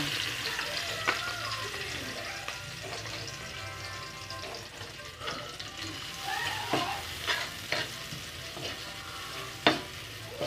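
Ginger added to browned garlic fries in a pan for ginataang langka, a dense crackling sizzle with occasional stirring scrapes and a sharp clink near the end, heard up close with only faint background murmurs.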